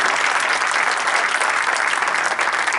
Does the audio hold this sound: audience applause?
yes